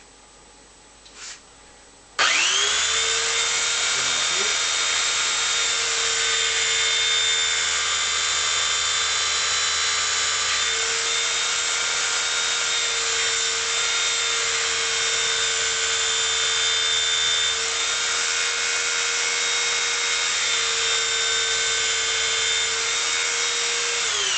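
A woodturning tool being sharpened freehand on a grinder, a loud steady high-pitched grinding whine that starts abruptly after a brief quiet moment and runs continuously to the end.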